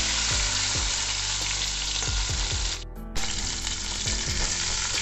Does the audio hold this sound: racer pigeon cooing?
no